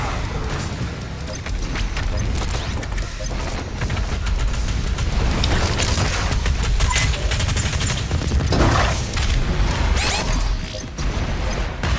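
A BFG 10,000 fires in Doom Eternal, a sustained loud barrage of booming, crashing blasts and rumbling gunfire-like bursts that stays dense and powerful throughout, with a few sharper swells.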